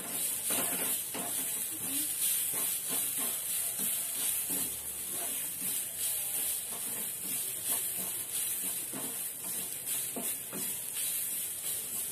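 Grated coconut and spices dry-roasting in a pan for a crab curry, a steady close sizzle and crackle with the scrape of stirring running throughout, no voices.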